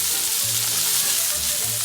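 Onions fry in a pan over medium heat, giving a steady crackling sizzle with no pauses and a faint low stirring noise underneath.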